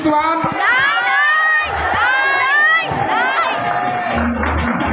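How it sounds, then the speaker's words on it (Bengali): Children at a school award ceremony for SSC 2024 top achievers in Bangladesh cheer and shout loudly in a nearby crowd, with excited voices rising in bursts throughout. "ছেলের হাততালি দেখ"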